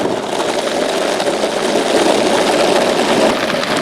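An R5 electric skateboard cruising around Salmo gives off a steady, continuous motor whine with a rolling hum beneath it, fairly loud and unbroken throughout, with no talking.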